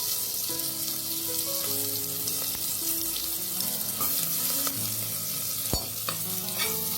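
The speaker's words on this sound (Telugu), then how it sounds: "ఇప్పుడు ఉల్లిపాయల్ని గోల్డెన్ బ్రౌన్ కలర్ వచ్చేంత వరకు వేపుకున్నాం" Onions frying with whole spices and green chillies in a pan for paneer biryani, making a continuous loud sizzle with occasional stirring scrapes and a sharp clack near the end, close up with no talking.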